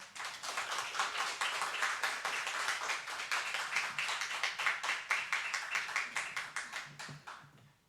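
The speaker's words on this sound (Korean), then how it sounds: "우리 선교사님 나오실 때 박수로 환영하도록 하겠습니다" A church congregation claps in unison to welcome a missionary to the pulpit, a fast, even run of sharp synchronized claps that holds steady, then slows and thins out near the end.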